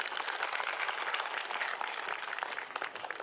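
Crowd at a county talent show applauding, a dense, continuous burst of many hands clapping at moderate volume, steady throughout without talk.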